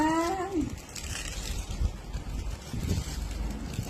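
Wind blows outdoors as a steady, rough roar buffeting the microphone throughout, after a brief tonal sound at the very start.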